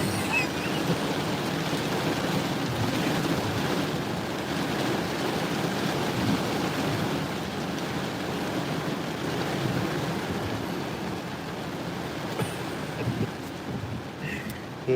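Storm wind blowing steadily outdoors during heavy rain, a continuous broadband roar with gusty swells and microphone buffeting that stays loud and unbroken throughout.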